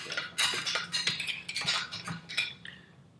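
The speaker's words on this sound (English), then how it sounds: "Turn that handle, get a nice shred of Parmesan Reggiano cheese." A handheld rotary grater shreds Parmigiano Reggiano, giving close, uneven scraping and clicking strokes in quick bursts that taper off at the end.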